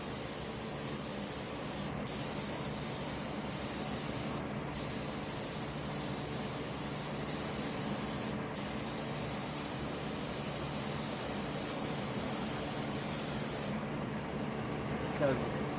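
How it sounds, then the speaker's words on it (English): An aerosol can sprays speed clear coat onto motorcycle pegs in a long, steady hiss, broken by a few brief pauses in the nozzle flow, close and continuous. "So we'll spray."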